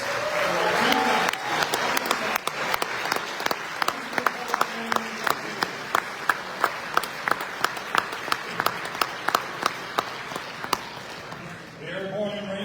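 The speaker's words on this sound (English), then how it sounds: "Let's have another round of applause for our" An audience at a Ranger Hall of Fame induction ceremony applauds, then breaks into a steady rhythmic clap of regular sharp beats for several seconds before fading. Voices are heard over it.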